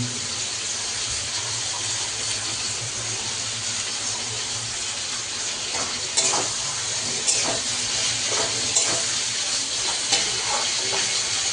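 Onion and spring onion frying in a pan for lemon butter chicken give off a loud, continuous hissing sizzle, with occasional stirring clatters growing busier toward the end; no voices are heard.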